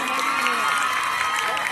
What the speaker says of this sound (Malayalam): പെൺപിള്ളേർ മാത്രം ഒന്ന് കൈയടിച്ച് വെച്ചോച്ചേ